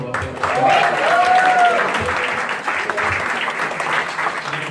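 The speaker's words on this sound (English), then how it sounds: "Give yourselves a round of applause." An opening-night crowd at a live music session claps loudly and continuously, with cheers and voices mixed into the dense applause before it gradually thins.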